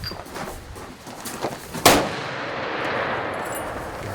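A single loud, sharp shot from a heavy rifle at a shooting competition in Kentucky, with a strong muzzle blast that ends in a long, rolling echo. Faint background noise comes before it.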